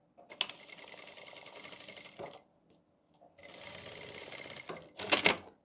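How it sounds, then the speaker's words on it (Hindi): A sewing machine stitches the seam of palazzo pants in two steady runs of rapid mechanical whirring, separated by a short pause and followed by brief clattering handling noise. "और इस तरह से हमें आसन की सिलाई लगा लेनी है।"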